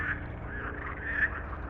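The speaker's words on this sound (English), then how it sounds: "Ooh, frog. And there goes the frog." A frog in a cursed forest video game croaks in a steady, throaty stream by the water, fairly loud and close, with no talking over it.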